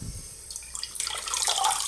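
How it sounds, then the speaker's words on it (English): Low-pressure stream of water running through a K&N air filter during cleaning, a steady splashing rinse that grows louder and fuller partway through. "run a low pressure stream of water through here"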